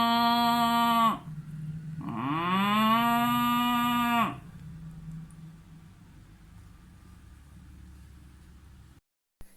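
Two long, loud cow moos close up, the second rising then sliding down in pitch, followed by quiet background hiss.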